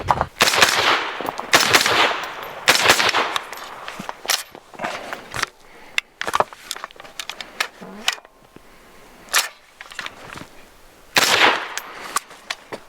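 An RR Weapons Ventus 556 rifle fires single loud, sharp shots at irregular intervals outdoors, each a close crack with some echo, interspersed with scuffing, handling noise and a few longer bursts of rustle.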